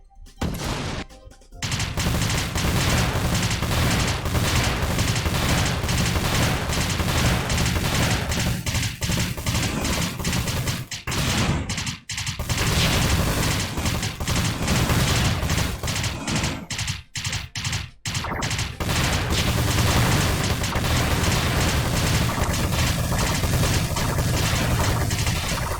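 Tank cannon and gunfire from the Freedom Planet video game, a dense, continuous barrage of loud shots and blasts running almost the whole time with only a few brief gaps.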